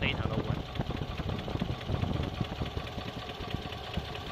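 A 1972 car engine with multiple carburetors, freshly balanced, idling smoothly and steadily close by, an even low rumble with faint ticking; a voice talks over it.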